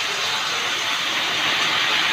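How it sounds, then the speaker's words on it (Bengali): Water hits a hot pan of roasted moong dal with a loud, steady hiss and bubbling sizzle that keeps on without a break, close and alone. "এবার জল দেব।"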